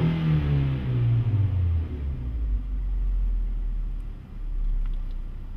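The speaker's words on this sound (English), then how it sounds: "I'm going to give it a quick wide open throttle test" A car engine is pushed to wide open throttle during oxygen sensor testing, roaring up loudly in a rising rev and then easing into a steady, deep rumble.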